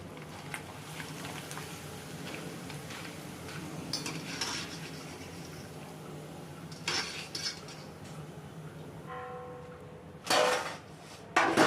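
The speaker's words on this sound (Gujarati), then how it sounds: "સૌની પહેલાં આપણે આ બટાકાની વેફર તળી લઈએ" A steady hiss of potato chips frying in hot oil runs throughout, broken by occasional metal utensil clinks and scraping stirs near the pan.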